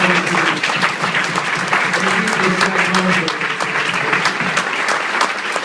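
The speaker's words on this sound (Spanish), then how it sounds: "Un aplauso fuerte para el Señor." Loud, sustained clapping from a large church congregation, dense and continuous, with a voice faintly rising beneath the applause.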